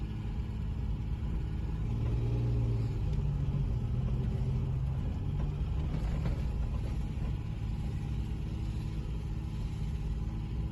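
Interior engine sound from a Ford Capri Ghia, a barn-find car, while driving: a steady low rumble with a brief swell of revs near the start, even and moderately quiet throughout.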